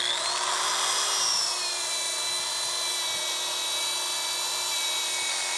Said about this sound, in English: I can get a very good abrasive cut going here.